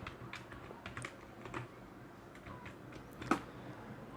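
Light, quick keystrokes tapping out C++ code on a computer keyboard, soft and close, in short irregular runs with one sharper key press near the end.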